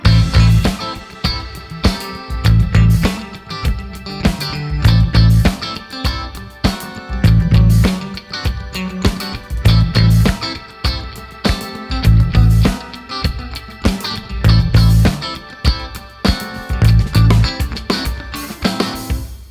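Bass guitar root notes lock in with a steady kick drum over a full backing track, with low punchy pulses recurring in a tight groove throughout and no voices.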